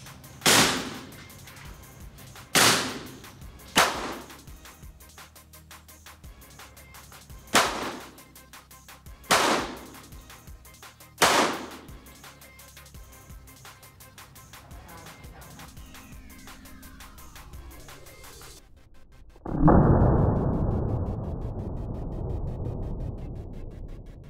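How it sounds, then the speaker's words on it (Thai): Six sharp, loud gunshots from an STI Staccato P .45 pistol at a shooting range, spaced irregularly one to three seconds apart with short echoes, followed by a sustained rumbling rush of noise. "แรกจะลองยิง2มือนะครับแล้วจะสุดท้ายจะลองยิงมือเดียวนะครับผม"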